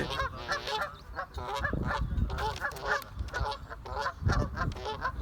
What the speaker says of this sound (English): Oh my god, the geese!